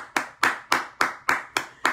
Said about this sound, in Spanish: vamos a darle un aplauso a Itzayana Sánchez Nolasco con 9 añitos